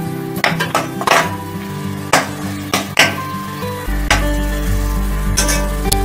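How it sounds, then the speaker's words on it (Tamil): Mint leaves sauté in a hot pan while mint rice is being made, giving a steady close sizzle broken by several sharp clinks and scrapes of a spoon stirring against the metal. "இதை ஒரு 2 நிமிஷம் நம்ம வதக்கணும்."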